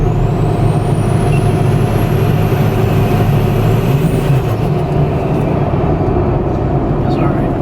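Diesel truck fitted with a new turbo, racing on the street and shredding its tires: a loud, continuous engine roar with a rising turbo whine and tire noise, no clear break, close to the listener.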